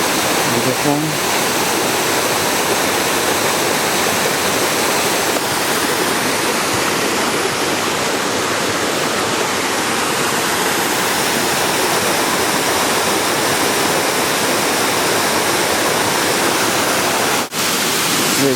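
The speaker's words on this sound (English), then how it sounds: "Another waterfall." A waterfall at Ricketts Glen roars steadily and loudly, its dense rushing water holding an even level from start to finish.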